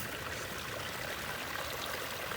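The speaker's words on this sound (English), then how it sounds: "Here's a waterfall from the back." A steady, full rush of falling water from a garden waterfall, heard from behind it, broadband and continuous, close by with no voices.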